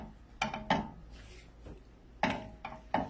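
A utensil stirs caramel with nuts and cardamom in a metal pan. Separate clanks and scrapes against the pan come in an uneven rhythm, close by and moderately loud, with quiet gaps between them.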